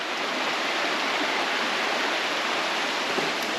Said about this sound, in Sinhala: එතන පල්ලහට වතුර වැටෙනවා